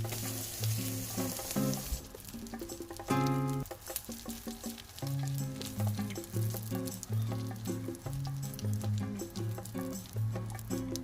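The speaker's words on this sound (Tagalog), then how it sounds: "Prito lang natin yung mga natitirang tikoy." Tikoy, a sticky Chinese rice cake, fries in a pan with a steady close sizzle and crackle, broken by clinks and scrapes of a utensil moving the pieces, with background music playing throughout.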